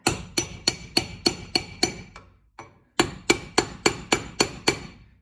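Rear differential bearing on a 2004 Ford F150 being hammered into place, two runs of evenly spaced sharp metallic blows, close and loud, with a brief pause between them.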